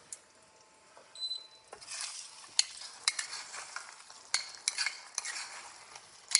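Carrots tossed with cashews in a pan, with a quiet stretch giving way to a soft sizzle and a run of sharp utensil scrapes and clinks against the pan.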